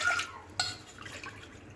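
Water pours into a cooking pot for semiya payasam, with two short splashy bursts, one at the start and another a moment later, followed by faint trickling.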